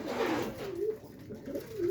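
Pigeons kept by a Punjabi pigeon seller coo close by in soft, low, rolling phrases that repeat through the moment with no voices.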